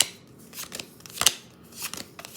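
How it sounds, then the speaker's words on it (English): Cards from an Enemy Action: Ardennes wargame deck are shuffled top and bottom by hand, making several crisp, close papery bursts at uneven intervals over a quiet background. "I just do a top, bottom, top, bottom as an initial shuffle."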